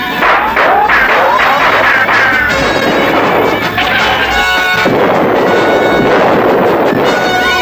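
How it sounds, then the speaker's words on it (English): Cartoon cannon and gun fire during a chaotic scene: loud, dense, continuous barrage of booms, bangs and crashes, with brief whistling tones over the din. "Still your cannon. Quiet your guns."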